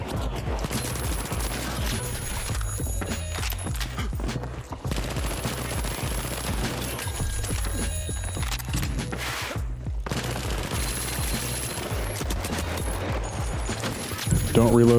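A P90 submachine gun fires in the shooter game The Finals, with dense, sustained automatic bursts that barely pause, loud and close throughout.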